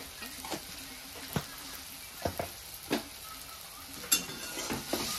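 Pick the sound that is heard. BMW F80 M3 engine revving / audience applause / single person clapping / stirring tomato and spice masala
stirring tomato and spice masala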